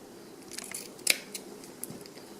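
Scissors snip through a fabric binding strip, giving a few quiet close blade clicks and one crisp main cut, with no talk.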